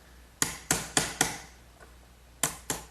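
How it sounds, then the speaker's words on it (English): Sharp chisel struck into wooden mortises, six crisp hard knocks in an uneven rhythm, close and clear with a quiet pause between the first four and last two. "Now I'll clean out the rest of these 2 mortises with a good sharp chisel"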